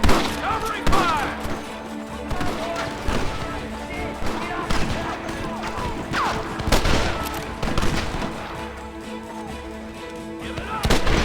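Gunfire during a village shootout in the Western video game Red Dead Redemption, with repeated irregular shots and volleys mixed with shouting and game voices over a busy battle background.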